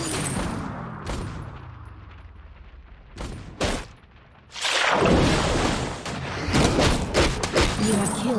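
Gunfire and booming impacts from the mobile battle game Vainglory, 5v5 mode, sound in loud bursts and rapid volleys over game effects, with a short quiet gap midway.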